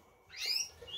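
A male canary in a breeding cage gives a single short, bright chirp with a faint second note after it, quiet and close, no talking.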